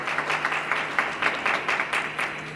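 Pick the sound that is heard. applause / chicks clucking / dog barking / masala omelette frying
applause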